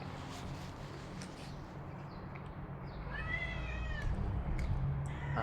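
Several adopted house cats meow insistently for food around a single shared plate, overlapping cries growing louder near the end over a steady low background hum.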